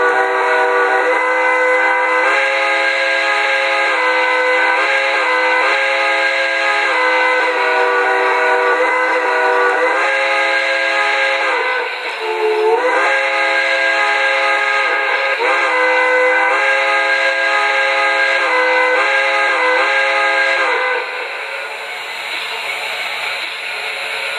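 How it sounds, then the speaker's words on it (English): Quilling whistle of an MTH Pennsylvania K4 model steam locomotive, a loud, sustained multi-tone whistle blown continuously for over twenty seconds with slight pitch bends, dropping away at the end. "Now, the other whistle is the quilling whistle"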